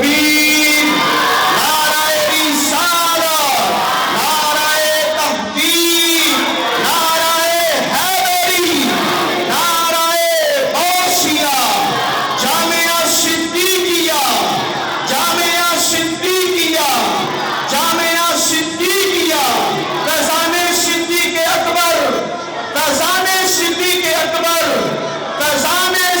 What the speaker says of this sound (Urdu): تمام احباب جو ہے وہ آواز بلند نعرے کا جواب دیجیے، نعرہ تکبیر